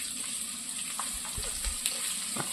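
Pieces of bitter gourd sizzle in hot oil, a soft, steady crackle close by with a few faint knocks of a spoon or pan.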